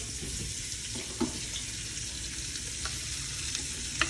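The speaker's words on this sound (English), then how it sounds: "You hear that sizzle?" A steady, loud sizzle of onions and garlic frying in hot grease in a pot fills the clip, with a few small clinks and taps of a utensil in the pot.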